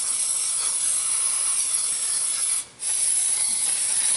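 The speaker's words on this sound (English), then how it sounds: "I usually blast out the cylinders." Compressed air blasts steadily into the cylinders of a Subaru EJ253 engine during head gasket work, a continuous loud hiss broken once by a brief pause before resuming.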